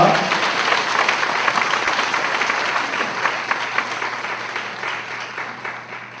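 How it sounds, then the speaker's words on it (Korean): Loud, sustained applause from a congregation at a church ministers' seminary evening assembly, dense clapping from many hands that holds steady for several seconds before gradually tapering off. "뜨거운 박수 다시 한번 부탁합니다"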